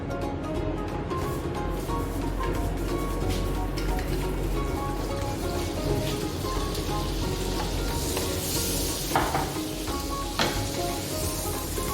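Cooking oil and butter sizzling in a pan as egg fried rice begins, a loud, continuous hissing fry with light stirring scrapes and a faint steady tonal hum beneath, no talk.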